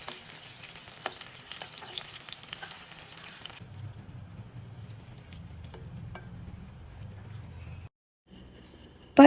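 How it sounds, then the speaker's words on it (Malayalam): Round slices of raw plantain frying in ghee, a soft continuous sizzle that grows fuller midway with stirring, then drops out briefly near the end. "എന്നിട്ട് ഇതിലേക്ക് വട്ടത്തിലരിഞ്ഞ് ഏത്തയ്ക്ക ഇട്ട് കൊടുക്കുകയാണ്."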